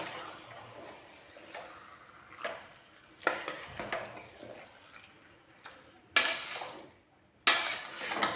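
Chicken biryani masala in a pan gets ground peanut paste, soaked in hot water and blended, stirred through it: irregular scrapes and clinks of a spoon against the pan, with two louder, sharper bursts near the end and no voices.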